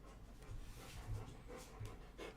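Big dogs panting close by in quick, soft huffs, with a few brief whimpers mixed in, quiet overall.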